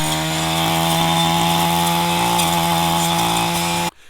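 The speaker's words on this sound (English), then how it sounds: "what this is a blade with chainsaw teeth attached to the end of my weed eater" A weed eater fitted with a chainsaw-toothed brush blade cutting overgrown brush: a steady, loud motor whine with the buzzing blade grinding continuously, then cutting off abruptly at the end.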